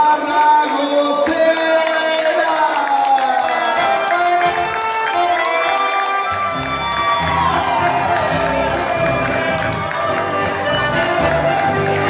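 A large crowd at a live chamamé show at the Monumental de la Colonia cheers, whoops and applauds loudly and continuously to welcome a young female singer, with steady overlapping voices and hand claps filling the whole stretch.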